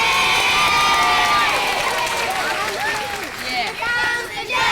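A crowd at a 1995 Midsummer Festival cheers and shouts loudly in unison, children's voices among them, with a few claps, the roar dipping slightly in the final seconds.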